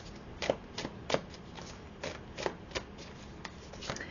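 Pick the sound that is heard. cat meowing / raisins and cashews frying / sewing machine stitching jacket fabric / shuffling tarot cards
shuffling tarot cards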